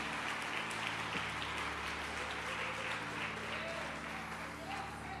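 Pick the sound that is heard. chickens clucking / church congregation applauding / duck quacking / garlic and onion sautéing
church congregation applauding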